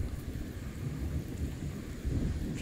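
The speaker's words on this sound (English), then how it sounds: "We got some rain" Steady rain pours down in a dense, hissing wash with a low rumble underneath, continuous and fairly loud, with no voices.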